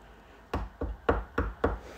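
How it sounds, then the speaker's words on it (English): Five firm knocks on an office door, evenly spaced and fairly close, in an otherwise quiet room. "So, hang on a minute. Someone's at my office door."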